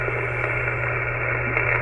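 Distorted shortwave radio transmission buried in steady static hiss and a low hum, a constant crackling wash with no clear speech, heard alone for a couple of seconds.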